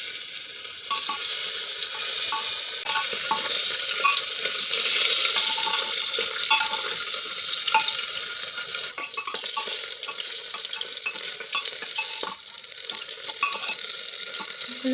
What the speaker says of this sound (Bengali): এগুলোকে ভালো করে উল্টে পাল্টে ভেজে নিচ্ছি।